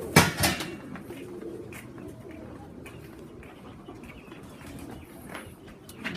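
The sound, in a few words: birds cooing in the Blue Star family loft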